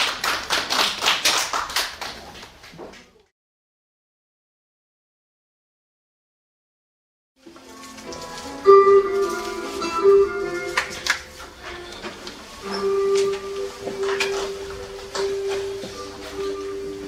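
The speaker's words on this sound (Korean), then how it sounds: "큰 박수 부탁드립니다." Audience applause at a national poetry recitation contest, a dense burst of clapping for a few seconds, then silence, then a busier stretch of clapping, tapping and room noise with a sustained tone underneath.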